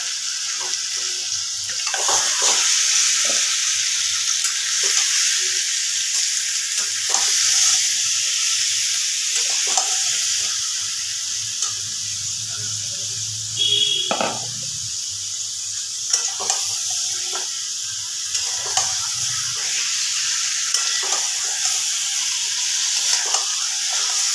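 Marinated chicken sizzling in a hot pan for foil chicken, a loud continuous frying hiss broken by scattered scraping and stirring clicks, close up with no talking.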